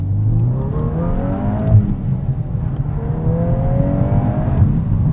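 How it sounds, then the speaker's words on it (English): A turbocharged 2022 Volkswagen Golf R 6-speed manual engine revs hard and climbs in pitch to redline, easing off briefly, then pulls up high again in a second sustained rising run. "Pulls all the way up to redline."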